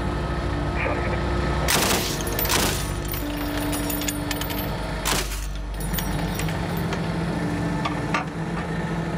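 Gunfire at a shooting range with targets being hit: a few sharp, loud shots stand out over a constant mechanical hum, with faint background noise between them.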